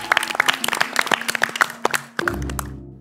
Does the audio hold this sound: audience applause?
yes